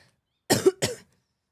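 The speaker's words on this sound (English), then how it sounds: "There's some dying coughs for you." Two close, raspy coughs in quick succession, near and fairly loud, with quiet before and after.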